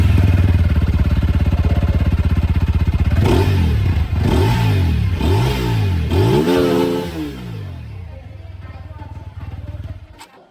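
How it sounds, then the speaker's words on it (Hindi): A TVS Apache RTR 200 4V motorcycle idles loudly nearby, then revs its engine several times in rising sweeps before the exhaust note dies away. "जो एग्जॉस्ट साउंड है बाइक की वो मैं सुना देता हूँ"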